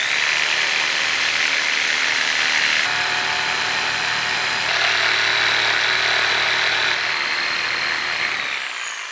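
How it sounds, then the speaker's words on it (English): A jigsaw cuts steadily through a cornhole board, a loud continuous buzzing whine with slight shifts in pitch as the cut progresses, running nearly nine seconds before stopping abruptly at the end. "Then I'll just cut it out with a jigsaw, staying as close to the line as I can."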